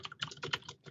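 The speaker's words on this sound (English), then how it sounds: "I love loud keyboard." Loud computer keyboard typing: a quick burst of crisp, close clacking keystrokes in an irregular rhythm, with no talking.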